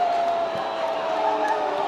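Crowd noise at a girls' prep school basketball game, Siegel vs. Riverdale, a steady, continuous roar of a packed gym with cheering voices blended together throughout, no single voice standing out.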